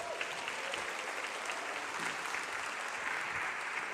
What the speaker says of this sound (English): give Reverend Jackson another round of applause